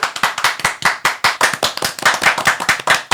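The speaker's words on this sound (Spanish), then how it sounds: "Eduardo Caballero, un aplauso." An audience applauds a guest finance specialist being welcomed onto a Spanish-language show, a steady run of close, crisp hand claps with no talking over them.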